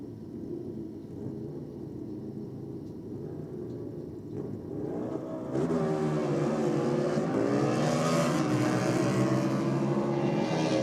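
A modified drag racing motorcycle, the Powerhouse Cycles machine running on VP Race Fuels, rumbles at first and then roars loudly as it launches and accelerates down the strip, its engine note climbing through the gears. Nobody speaks.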